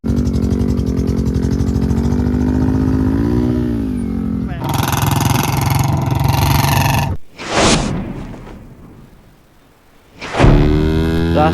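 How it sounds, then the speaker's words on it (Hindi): A motorcycle, an R15 or Bullet during an off-roading challenge, holds a loud revving roar at close range, then surges higher, cuts off abruptly and roars again, with voices mixed in. "रास्ते में रुककर भाई सत्या ने किया बर्नआउट"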